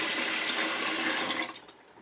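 Water streams from a tap into a pot of rice for cooking a Tom Kha Gai meal, a loud close splashing hiss that runs steadily and then cuts off sharply near the end, with no talking.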